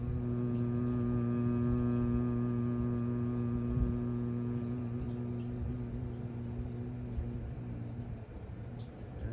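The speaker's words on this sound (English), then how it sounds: "begin making the hum sound" A person makes a sustained, steady vocal hum during a guided sound-healing exercise, a low droning tone with layered harmonics that holds evenly and slowly softens.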